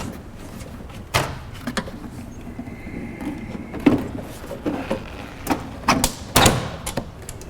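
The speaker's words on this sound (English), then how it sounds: "Let's put the door back on." The metal door of an AprilAire 501 furnace air filter unit clunks and rattles as it is fitted back into place, with scattered taps and knocks over several seconds.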